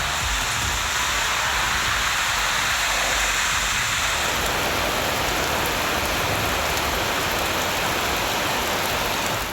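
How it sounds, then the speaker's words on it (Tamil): Heavy rain with strong wind pours down around Vellore in Tamil Nadu, a dense, loud, steady downpour roaring throughout with no voices. "பலத்த காற்றுடன் 1 மணி நேரத்திற்கு மேலாக கனமழை பெய்தது."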